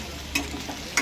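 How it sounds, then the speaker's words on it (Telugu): Telangana-style chicken curry sizzles steadily in a pan, a constant close frying hiss with two short scraping strokes as a spoon stirs it, no voices. "ఇప్పుడు కలుపుకోండి. కలుపుకుంటానే ఉండాలి."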